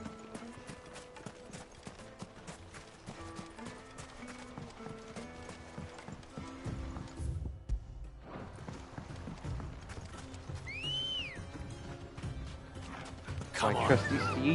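Horse hooves clip-clop steadily through a Final Fantasy XVI ride, mixed with game music and mechanical clatter, with a brief whinny near the end and some talk over it.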